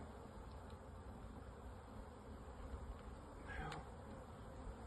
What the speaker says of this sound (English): set these honeybees here.